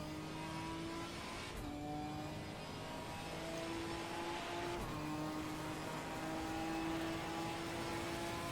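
A race car in Gran Turismo 4 drones steadily with its engine pitch rising and falling through gear changes, a few brief shifts breaking the tone, played fairly quietly with no talk.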